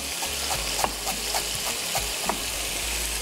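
Prawns frying in hot oil for crispy fried prawns, a steady close sizzle and crackle with faint stirring knocks and scrapes throughout. No one speaks.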